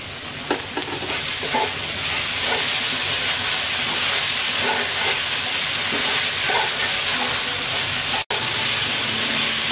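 Okra and egg frying in a pan with turmeric, chili and coriander powder and salt, giving a loud, steady close sizzle broken by regular stirring scrapes, with no talking.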